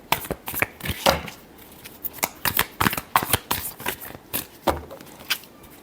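Tarot cards are shuffled by hand in a rapid series of crisp riffling snaps and flutters, close and fairly quiet, with brief pauses between bursts.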